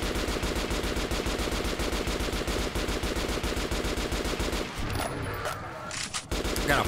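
Rapid, evenly spaced machine gun bursts from Metro Last Light Redux hammer on for several seconds, then briefly cut out and resume, loud and close with game ambience underneath.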